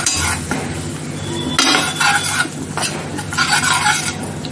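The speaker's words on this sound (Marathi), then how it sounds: "लाल तिखट, पावभाजी मसाला आणि हे सर्व मी आधी परतून घेते सर्व मसाले।" Red chili powder, ginger-garlic and pav bhaji masala sautéed in a pan for dhaba-style paneer bhurji, with steady stirring scrapes, light sizzle and occasional utensil clinks against the pan, close and continuous.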